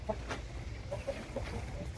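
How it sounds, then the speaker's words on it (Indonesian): Village chickens (ayam kampung), including laying hens, give soft intermittent clucks at moderate distance over a low steady background rumble, with a few short calls spaced across the stretch. "Ini ayam kampung biasa, ada yang sedang bertelur"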